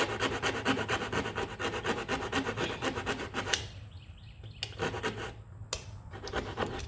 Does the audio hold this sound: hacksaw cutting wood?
yes